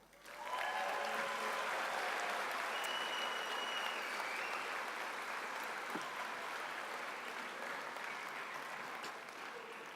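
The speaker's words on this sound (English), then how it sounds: "Let's give ourselves and our classmates a round of applause" Graduation ceremony audience at a London South Bank engineering school breaking into applause, a large hall of sustained clapping that swells in quickly and holds steady, slightly distant.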